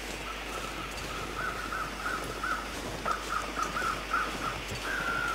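Crows caw repeatedly in The Long Dark, a string of short calls spread over a steady wind-like ambient bed, moderately distant with no talking.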